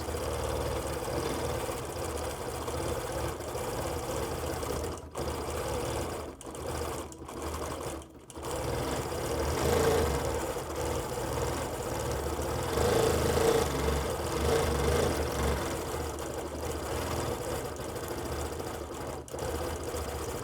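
A longarm quilting machine stitches a pumpkin-and-leaves quilting design, giving a steady, fast mechanical whir with brief pauses and restarts, moderately close and without talk.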